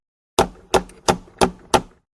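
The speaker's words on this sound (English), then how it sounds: "She knocks on the door of Toad's cell." Five evenly spaced sharp knocks on a prison cell door, loud and close, each with a short decay and a clean silence between them.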